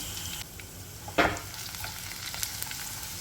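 Garlic and asafoetida fry in hot oil, giving a steady low sizzle and one sharp louder crackle burst as the asafoetida lands, then settling back to a gentle hiss.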